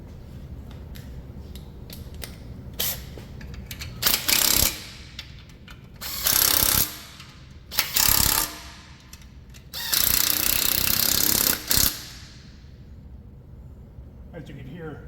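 Bursts from a power tool, likely an impact or ratchet gun, tighten oil pan bolts during a cracked oil pan replacement, in several loud runs of one to two seconds separated by quieter gaps.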